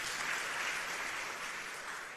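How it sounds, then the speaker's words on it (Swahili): Steady crowd applause at a political rally in Nairobi, continuous and fairly distant, with no clear voices over it. "Mchipikieni makofi kabisa."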